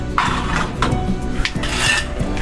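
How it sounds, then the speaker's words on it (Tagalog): Plates and utensils clatter and clink during dishwashing, with repeated close, loud knocks and scrapes of dishes against each other in an irregular rhythm and no talking. "Hugas ng pinggan."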